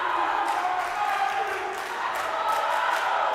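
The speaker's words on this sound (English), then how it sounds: "Boisterous crowd here today." Boisterous crowd noise fills a volleyball gym, a steady wash of voices and cheering with a few sharp bursts, loud and continuous throughout with no single voice standing out.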